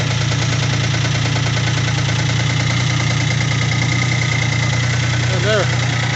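A 1980 Kubota diesel engine idles steadily just after starting, with a constant low rumble and rhythmic knock that carries loud and close throughout, and a brief squeaky sound near the end.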